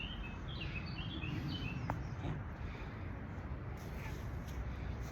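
Faint, distant bird chirps flicker in the first couple of seconds over a steady windy outdoor rumble.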